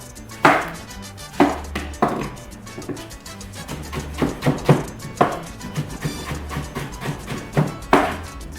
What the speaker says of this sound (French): Nous allons faire des cubes avec notre tomate.